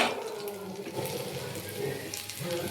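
Hot mustard oil tempered with cumin, chilli and garlic poured into dal, giving a loud continuous sizzling hiss that crackles and bubbles steadily throughout.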